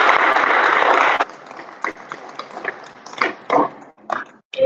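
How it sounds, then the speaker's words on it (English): Short burst of audience applause that breaks off abruptly, followed by scattered handling noises and brief murmurs in a quiet room. "Let's give him a hand of applause"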